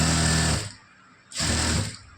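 A sewing machine stitches a lining blouse in two steady whirring bursts with a short quiet gap between them, running close and fairly loud with no talk.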